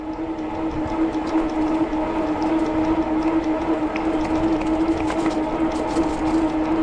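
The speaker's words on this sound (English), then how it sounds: "basically all you're listening to is the motor" An e-bike motor while riding, a steady close electric whine with a strong sustained tone over rumbling wind and road noise, constant and unbroken.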